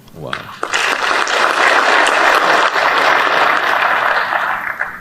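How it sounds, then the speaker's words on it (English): Dense, steady applause from a crowd, loud and close, rising quickly and holding for several seconds. "we must applaud you and applaud through you ourselves as a country"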